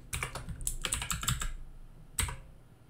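Code is typed on a computer keyboard in quick clusters of close key clicks, a burst of rapid taps, a pause, then a single final clatter of keys.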